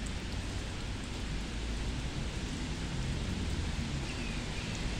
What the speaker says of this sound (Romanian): chiar dacă plouă afară